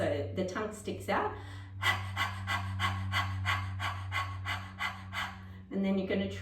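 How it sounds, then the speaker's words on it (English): Breath of fire during a Pilates breathing exercise: a long run of quick, rhythmic, dog-like panting breaths, close and steady over a low constant hum, with a sharper burst of breaths at the end. "So this breath of fire is done a little bit like a dog panting."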